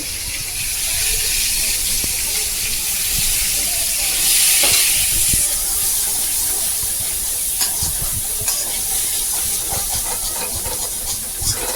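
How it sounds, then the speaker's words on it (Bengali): Onions fry in a pan for a chicken dish, giving a loud, steady hiss and sizzle that lasts throughout, with a few light clicks from the pan. "এখন পেঁয়াজটা দিয়ে দিই"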